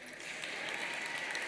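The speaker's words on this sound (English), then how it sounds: "You can clap, it's okay." Audience applause fills an awards gala ballroom, a steady, dense wash of many hands clapping at even loudness throughout, with no voices over it.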